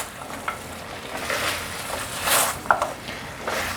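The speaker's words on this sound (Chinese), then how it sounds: "要这样不停的翻炒" Fried wheat gluten and sliced small cucumber tossed constantly in a bubbling sauce in a pan for a vegan home-style dish, giving a steady sizzle with repeated scraping stir strokes throughout.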